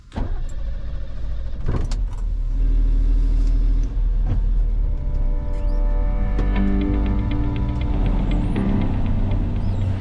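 Expedition truck driving through Hamburg traffic, a loud continuous low engine rumble heard from inside the cab, with gear and load shifts, brief knocks and a whining tone rising near the end.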